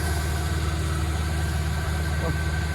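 A vehicle engine idles and hums steadily at close range with a low, even drone and slight vibration, run during the rice harvest season; there is a faint murmur that may be voices.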